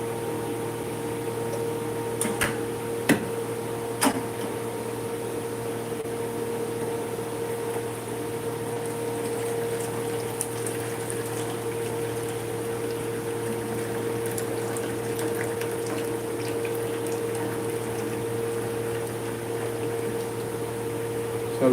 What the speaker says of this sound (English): I will drain the water.